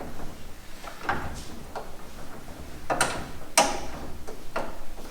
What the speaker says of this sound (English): Let's see if I can get the bolt in again.